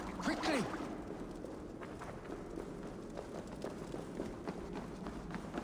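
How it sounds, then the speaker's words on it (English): Running footsteps in Assassin's Creed Valhalla, a rapid run of soft thuds and scuffs under ambient noise, with a short whooshing sweep near the start and voices murmuring in the background. "All those footsteps sound exciting."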